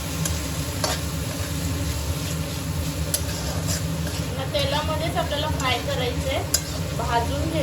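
Vegetables including carrot stir-fry in oil for Chinese rice, giving a steady, close sizzle with intermittent clinks and scrapes of stirring throughout, while a voice talks faintly over it.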